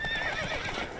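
Horse galloping in a race in The Witcher 3, a dense, steady wash of hooves and movement close up with a thin whistling tone above, continuous for about a second with no voices.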